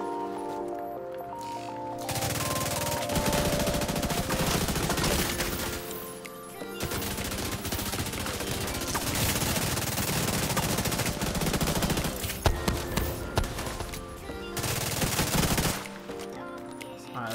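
Light machine gun fire in The Division 2, with long, loud, sustained automatic bursts broken by short pauses and a few crackling hits near the end.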